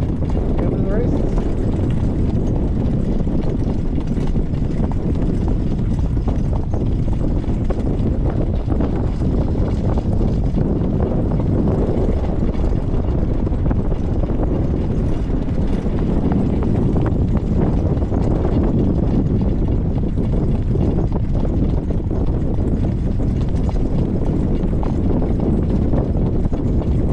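Hooves of a three-year-old horse clip-clopping in a continuous rhythmic beat during training, steady and close, with wind noise and someone talking over them.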